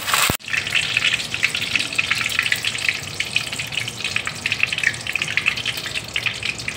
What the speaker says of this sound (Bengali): দেখো কারি পাতা আমি ভেজে নিচ্ছি।